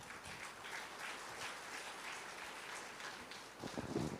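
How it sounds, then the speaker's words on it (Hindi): An audience claps steadily throughout, a faint, distant wash of applause from a spiritual gathering, with a few louder claps near the end. "सभी की तरफ से आपने ताली तो पहले ही बजा दी"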